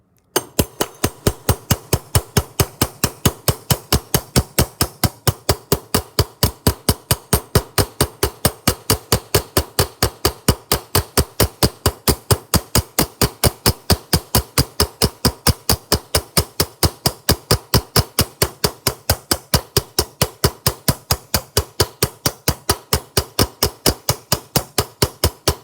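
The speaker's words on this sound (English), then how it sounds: "use this side of the ball peen hammer. And I'm going to use that to help work this copper into the countersunk section of the aluminium." A ball peen hammer working a copper rivet into countersunk aluminium, struck in a fast, steady stream of sharp metallic taps, dozens of even blows close up with no pause.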